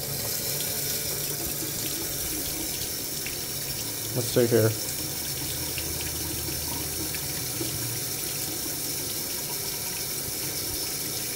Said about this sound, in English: yeah, and then out of the tap.